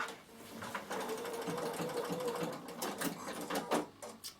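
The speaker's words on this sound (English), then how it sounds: "I just carry all the way around my bag with a straight stitch, and then I know that nothing's going to move when I sew it together" A Bernina sewing machine running a straight stitch around a fabric storage box, a steady close mechanical whirr with a rapid needle rhythm that speeds up near the end.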